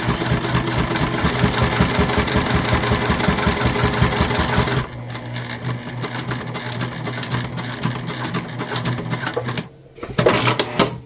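Sewing machine running steadily while double stitching a small bag pocket, a fast even needle rhythm for about five seconds, then a lighter, quieter whir with a short pause and restart near the end.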